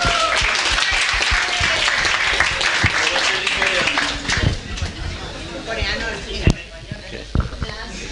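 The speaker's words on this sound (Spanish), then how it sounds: "Un aplauso para Sole" An audience applauds for Sole, a volunteer at a church mission gathering in Paraguay, in a dense, steady burst of clapping that thins out, with scattered chatter and voices mixed in.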